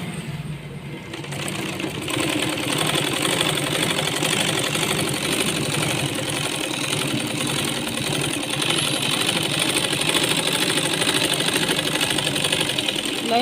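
A sewing machine stitches a seam on a Punjabi dress pant, a continuous close motor hum and rapid needle chatter that starts softly, then holds steady and loud throughout.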